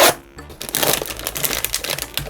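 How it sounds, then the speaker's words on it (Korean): A thin plastic bag crinkles and rustles continuously as a Labubu keychain is unboxed, loud and close with sharp crackling bursts and no voices. "제품 비닐봉투는 일반적인 판마트 비닐봉투로 되어 있고요."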